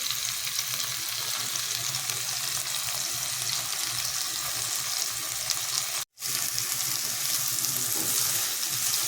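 Chopped vegetables fry in a hot pan for veg chowmein, giving a steady, dense sizzle that continues throughout, broken by one brief dropout near the end.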